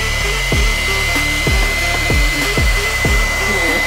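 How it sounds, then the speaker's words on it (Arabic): A hair dryer blows on mascara-coated eyelashes, a loud, close, steady whirring airflow with rhythmic pulsing surges roughly every half second as the dryer is moved. "رح استخدم ماسكارا وبلو دراي. البلو دراي مفروض ان هي ترفع وتشقل الرموش لفوق."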